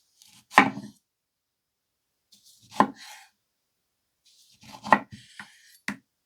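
Santoku knife from a Coquusaid 15-piece block set chopping food on a cutting board: four sharp, crisp cuts spaced a second or two apart, close and fairly loud, with quiet gaps between.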